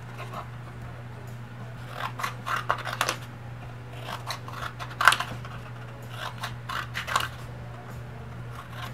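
Scissors cut through stiff chipboard pieces for a mini album, a close run of crisp, uneven snips and crunches, with one sharper cut near the middle.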